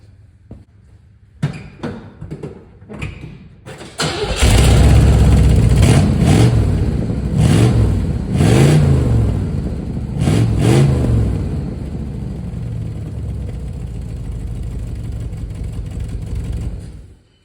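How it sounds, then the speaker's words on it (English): A 1958 Plymouth V8 with a new exhaust cranks over a few times, then starts and roars loudly nearby. It revs hard in repeated surges before settling to a steady, throaty idle and shutting off. "let's see how the exhaust sounds."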